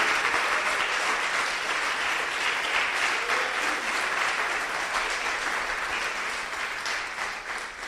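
A church congregation gives a strong round of applause, a thick sustained wash of clapping that holds steady for several seconds and then begins to thin slightly toward the end, with no talk over it.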